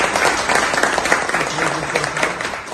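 Steady applause from an audience at a film soundtrack release event, a dense continuous patter of many hands clapping at even loudness throughout, with possible voices mixed in.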